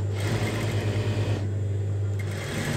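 Sewing machine stitching a strip onto tulip pants, a steady close rhythmic whirr of the needle running continuously with a brief slowdown midway.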